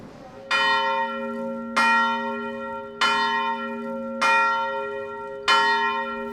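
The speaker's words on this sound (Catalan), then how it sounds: "És un repic de campanes que realitzen manualment els campaners de Valls des del punt més alt de l'església" A church bell in Valls, rung by hand from the top of the church, strikes five times at slow, even intervals, each clang ringing out and fading before the next, clear and resonant.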